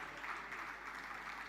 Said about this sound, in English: So please join me in welcoming our speakers with a round of applause